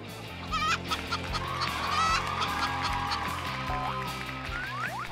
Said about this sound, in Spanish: ¡Mi gallina!